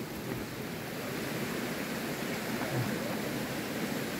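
A waterfall in a muddy natural setting by a small river, heard as a steady, dense rushing wash of falling water that stays constant throughout, with no talk over it.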